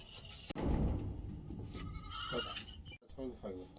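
Goats bleat close by from a group of seven or eight kept together at dusk, with several short calls rising over steady talking and background noise.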